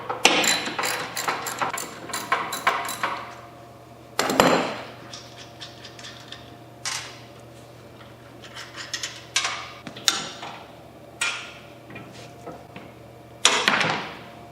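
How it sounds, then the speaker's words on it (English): A ratchet with a 1/2-inch socket removes carriage bolts from a Cub Cadet PRO Z mower deck, giving bursts of quick clicking and sharp metallic knocks close by, separated by short quiet gaps. "To remove these bolts, I'm using a 1/2-inch socket and a ratchet."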